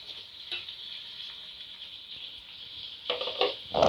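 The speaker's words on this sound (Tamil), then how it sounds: "இப்போ தக்காளி சேர்த்துப்போம்." Tomatoes drop into ginger garlic paste frying in a pan, a soft steady sizzle with light stirring clatter that swells toward the end, no voices.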